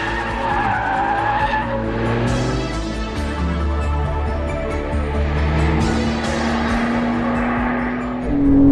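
A Porsche 911 4S of the 992 generation with sports chassis and active rear steer drives hard, its engine note rising and falling with gear changes and tire squeal, loud and close throughout.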